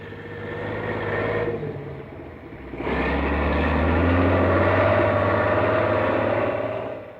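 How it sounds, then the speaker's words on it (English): Heavy tracked bulldozers clear a path for advancing tanks and infantry outside the ancient Burmese city of Lashio, a steady loud engine rumble and clatter that dips briefly then surges back and holds. "Bulldozers clear the way for tanks and infantry advancing on the ancient city"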